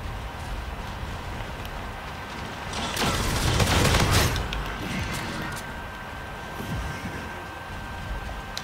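Gunfire from the RPR Evo in Infinite Warfare: a loud burst of rapid shots swells at about three seconds and fades after four, over steady game noise and ambient rumble.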